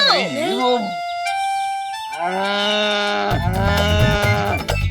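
A person imitating a buffalo gives several drawn-out, wavering moos with shifting pitch, close and loud, followed by a brief burst of background music.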